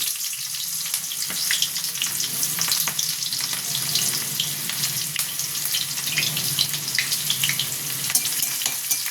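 Chopped onion fries lightly in a pan after a tempering of radhuni seeds, a steady close sizzle with faint water and stirring noises running throughout.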